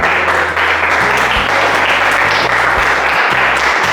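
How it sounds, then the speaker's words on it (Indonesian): A classroom group claps together in steady, dense applause that fills the whole moment, with a faint voice or two underneath. "Kita beri tepuk tangan."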